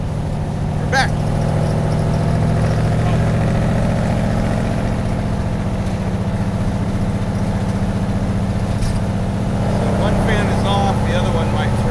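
An engine idling after being started on a road trip, a loud, steady low rumble that holds for the whole stretch, with brief faint background sounds.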